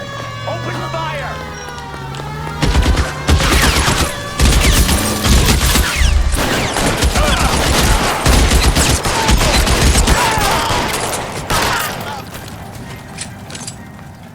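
A gunfight in the video game L.A. Noire: loud, dense bursts of rapid gunfire with siren-like wails, voices heard over the shooting, then the fire tapers into quieter tones.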